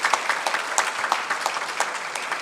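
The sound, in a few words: conference audience applause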